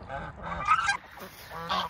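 A goose sitting on a nest of eggs gives a few short, nasal honks up close, in quick uneven bursts.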